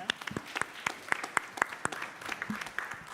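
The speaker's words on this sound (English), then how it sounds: "Give yourselves a round of applause for being here." A small audience at a public hearing on reparations gives a round of applause, sparse, distinct claps in an uneven rhythm, fairly quiet and slightly distant, with no talk over it.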